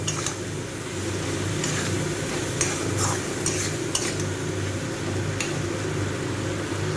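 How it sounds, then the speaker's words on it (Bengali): Spoon stirring beaten sour curd into a vegetarian dish for kurti, a steady close scraping and mixing with faint clinks of utensils against the pot, no talking. "টক দইটাও ভালো করে মিশিয়ে দেব।"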